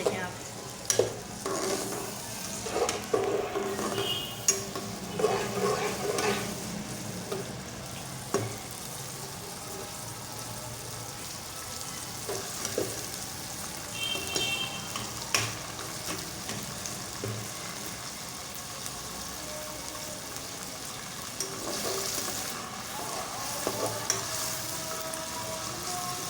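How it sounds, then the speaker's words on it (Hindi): Green peas fried in ghee for restaurant-style fried rice, a steady close sizzle with frequent spatula scrapes and stirring clatter against the pan throughout, no talking. "घी के अंदर मटर को भून लेंगे अच्छी तरह से"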